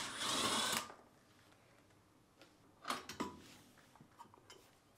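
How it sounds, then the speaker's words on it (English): A quarter-inch nut driver removes a screw from a Whirlpool dishwasher's terminal box: a brief whirring burst at first, then faint scattered clicks, creaks and scrapes of the metal part, close by. "Using a quarter-inch nut driver, remove the screw holding the terminal box in place."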